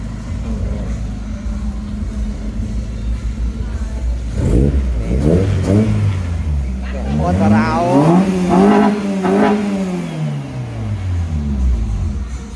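A Toyota AE92 engine revs loudly and close by, its pitch sweeping up and down through several rising and falling bursts over a steady idle rumble.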